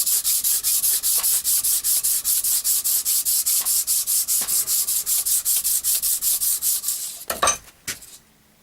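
A knife blade is rubbed with 400 grit sandpaper in steady, rhythmic back-and-forth strokes, about three per second. The sound is close and even, then ends in a few irregular scrapes.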